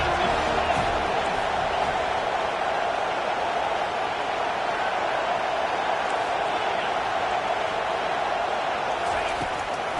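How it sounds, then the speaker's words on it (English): Roaring football stadium crowd at a college game, a dense, steady wall of cheering and noise that holds at full level throughout as fans get behind the defense on a big third down. "Big third down as the crowd gets behind this defense."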